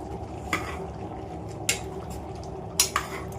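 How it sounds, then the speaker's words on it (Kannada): Red chicken gravy with fresh coriander leaves being stirred in a pot, a few sharp spoon-against-pot scrapes and clinks standing out over a low steady simmer, with no one talking. "ಕೊತ್ತಂಬರಿ ಸೊಪ್ಪು ಹಾಕಿ ಚೆನ್ನಾಗಿ ಮಿಕ್ಸ್ ಮಾಡಿ."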